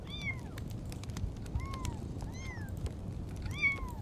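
A cat meows repeatedly in a horror video game, four or so rising-and-falling mews spaced through the stretch over a low, murky background rumble.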